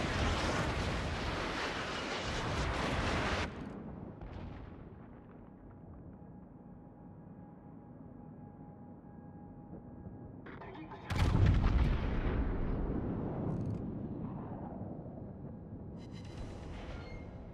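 Naval guns firing during a World of Warships battle: a loud broadband blast at the start, a long low rumble, then a second heavy boom near the end, with no talk over it.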